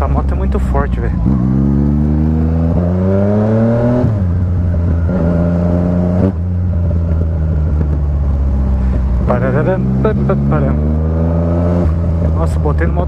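A strong video-game motorcycle's engine revs hard and close, its pitch climbing and dropping in repeated surges across the whole stretch, loud and unbroken, while someone talks over it.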